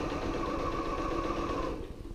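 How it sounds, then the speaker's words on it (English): A sewing machine runs a short tester stitch on a freshly loaded bobbin, a rapid, even mechanical whir that hums for under two seconds and then stops. "when you first start off with a new bobbin, you should do a little tester stitch"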